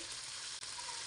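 Shrimp frying in a pan, a steady close sizzle with faint crackle throughout, no voices.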